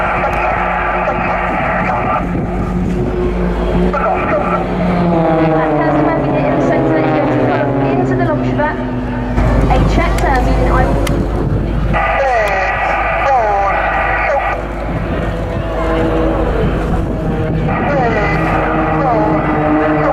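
Display team aircraft sweep around in an aerobatic bend at a seaside airshow, a loud continuous engine roar with rising and falling whine, heard under steady commentary.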